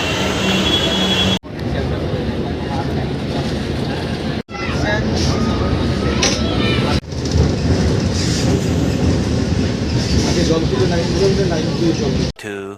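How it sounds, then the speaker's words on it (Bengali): Kolkata metro train rumbles loud and close from inside the carriage, a dense steady roar of wheels and motors broken by a few abrupt cuts, with faint squeals and voices mixed in. "এখন মেট্রোতে উঠবো"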